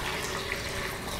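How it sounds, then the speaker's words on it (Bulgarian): Water poured into a blender over almonds for homemade almond milk, a soft, steady trickling pour lasting about a second. "Добавяме вода"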